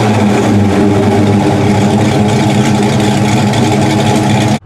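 A 1968 Oldsmobile Cutlass V8 rumbles loudly through Cherry Bomb Vortex mufflers, a deep throbbing exhaust note holding steady near the car before cutting off abruptly at the end.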